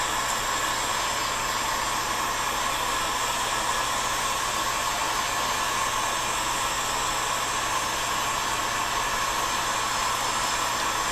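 Heat gun blowing hot air onto a PVC bow during shaping: a steady, loud, continuous whooshing roar like a hair dryer, unchanging throughout with no voices.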